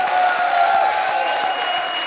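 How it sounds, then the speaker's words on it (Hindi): A steady wash of applause from a TV comedy show studio audience, dense and continuous at a fairly loud level throughout. "एक बार फिर जोरदार तालियां"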